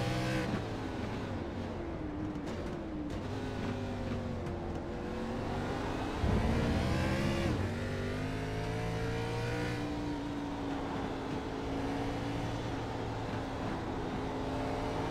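Race car engine from a sim racing league event at Road America, heard from inside the car: a loud, sustained droning rev with shifting pitch as the car accelerates and changes gear, with no talk.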